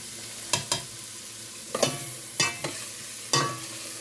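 Vegetables for chili sauté in a pan under a soft, steady sizzle, broken by a few sharp scraping strokes as they are stirred, close and with no talking.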